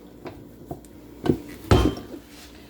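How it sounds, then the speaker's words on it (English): A metal beater attachment being fitted onto a stand mixer, a few close clinks and knocks of metal against metal, the last two the loudest, with quiet pauses between and no talking. "put on your beater attachment"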